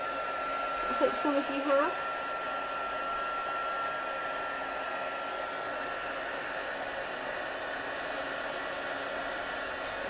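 A craft heat tool blows steadily for card making, a continuous airy roar filling the whole stretch, with someone speaking briefly near the start over the hiss.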